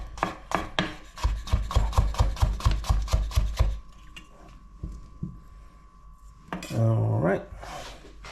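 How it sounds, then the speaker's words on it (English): A knife chops rapidly on a cutting board, julienning potatoes for chicken bhaji, with around a dozen fast, even knocks in a steady rhythm at close range. Quieter handling and a brief voice follow. "I'm going to julienne the potatoes."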